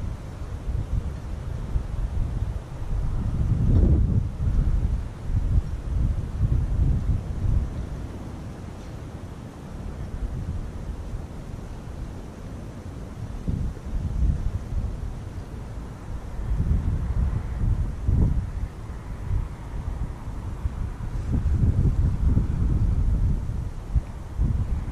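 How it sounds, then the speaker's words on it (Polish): Strong wind buffeting a microphone beside a river, gusty low rumbling bursts that swell and fade over a faint steady background, with no one speaking. "Mocny wiatr jest. Bardzo mi przeszkadza, ale niestety pogody nie wybieramy."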